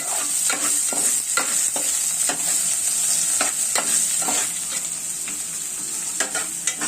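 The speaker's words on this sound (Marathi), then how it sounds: "आपल्याला आता मी ढवळून घेणार आहे. कांदा जरा गॅस मी कमी करत आहे" Onions frying in a pan being stirred, a bright steady sizzle punctuated by a run of quick scraping strokes, close and fairly loud with no talking.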